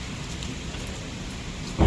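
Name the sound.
heavy rain falling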